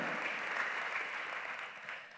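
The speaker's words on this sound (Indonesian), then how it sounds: "Tepuk tangannya boleh yang paling meriah buat Yesus Tuhan kita." A church congregation claps steadily through a service, a dense, moderately loud wash of applause that holds evenly and tapers slightly toward the end, with no voices standing out.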